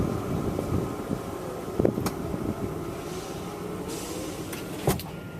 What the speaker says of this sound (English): Oh, there's wind. Wind is the enemy of my camera.